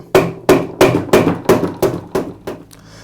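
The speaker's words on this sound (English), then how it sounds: "strike the motor shaft with a mallet" A mallet strikes the motor shaft of a Ridgid Tri-Stack air compressor eight times in an even rhythm, each hit a sharp, close metallic knock that rings briefly and fades, with the blows getting slightly softer.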